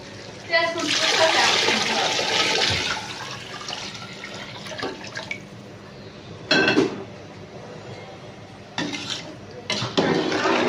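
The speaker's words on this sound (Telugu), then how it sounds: "ఇప్పుడు మనము వాటర్ వేసుకుందాం నేను వాటర్ కాంచి వేస్తున్నాను" Hot water is poured onto chicken cooking for biryani, a loud rushing pour lasting about two seconds, then shorter splashes and clatter while someone talks.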